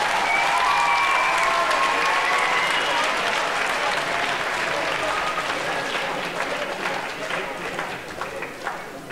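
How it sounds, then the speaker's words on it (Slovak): An audience at a Slovak school competition semifinal applauds for the semifinalists, a loud, even patter of many hands that slowly thins and fades toward the end. "Poprosím potlesk pre našich semifinalistov."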